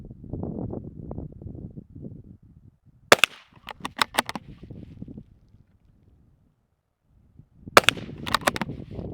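Outdoors, a .22 rifle fires in two quick clusters of sharp cracks, several shots in rapid succession each time, separated by a stretch of quiet and low wind rumble.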